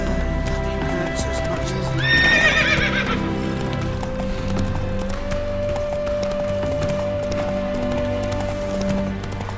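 Roach, a horse in The Witcher 3, neighs loudly with a shrill whinny near the start while hooves clip-clop at a gallop throughout over a steady game soundscape.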